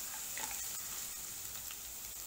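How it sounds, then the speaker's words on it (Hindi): Finely chopped ginger frying in a pan for noodles, a faint, steady sizzle with a few light stirring ticks. "इसमें हम डालेंगे 1 इंच अदरक का टुकड़ा जो फाइनली चॉप कर लिया है। इसे 2 सेकेंड के लिए हम भून लेंगे।"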